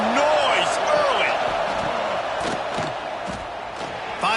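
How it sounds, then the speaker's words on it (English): Sports stadium crowd roaring at a football game, a dense sustained wall of cheering and whistles under a commentator's voice. "This crowd bringing the energy and noise early."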